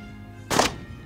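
One loud, abrupt blast from a Beretta 1301 Tactical shotgun fired from the hip at an outdoor range, a short broadband burst that cuts off quickly.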